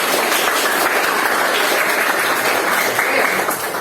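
Classmates clapping in a classroom, a loud continuous burst of dense applause from a group of students, steady throughout with no talking.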